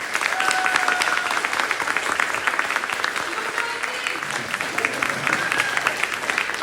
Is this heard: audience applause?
yes